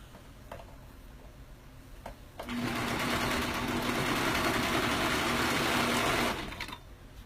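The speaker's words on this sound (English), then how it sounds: "Line up the shoulder seams and sew them." A sewing machine stitches shoulder seams, a few faint clicks giving way to a steady, close motor whir with rapid needle ticking for about four seconds before stopping.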